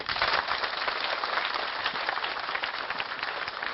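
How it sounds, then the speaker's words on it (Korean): Sustained crowd applause at an outdoor stadium revival meeting in Cheonan, dense and steady throughout, welcoming the group leaders with no voices standing out. "박수로 환영하십시오."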